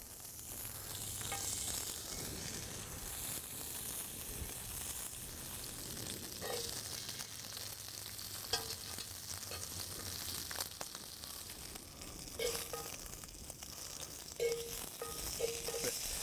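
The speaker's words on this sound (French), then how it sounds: "On va saisir nos côtelettes pour vraiment venir caraméliser la viande." Smoked pork chops searing in a hot pan, a steady loud sizzle throughout with occasional pops and rattles as the meat shifts, close up.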